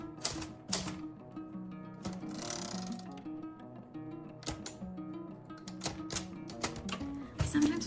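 Electric typing on an Olivetti Linea 98 typewriter, a steady run of close mechanical key strikes and clacks with carriage and mechanism noises, played over background music with tonal notes throughout.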